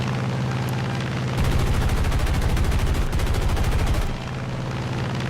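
Rapid machine-gun bursts from an F4U-1a Corsair fighter in War Thunder arcade air combat, a loud dense stutter of fire running for about three seconds, with steady engine drone before and after.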